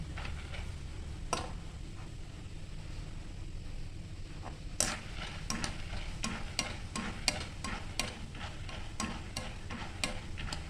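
Roasted chana dal frying in hot oil for a thin poha chivda, a low steady bubbling hiss broken by scattered sharp ticks and pops, with a louder burst of crackles after the midpoint and no voices.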